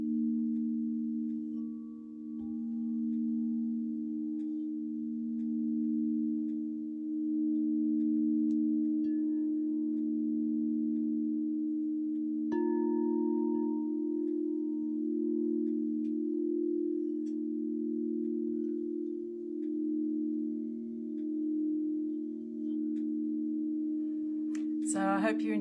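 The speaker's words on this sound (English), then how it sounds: "I hope you're enjoying some of the sounds from the alchemy bowls" Crystal alchemy singing bowls ring in long, sustained, steady tones that hum continuously and shift slightly in pitch partway through, with a faint brief clatter at the very end.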